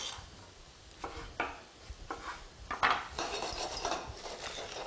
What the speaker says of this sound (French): On coupe en quatre les tomates.